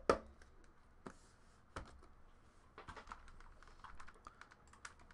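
Someone types on a computer keyboard at a desk, producing soft, irregular key taps close by with a few sharper clacks and no voices.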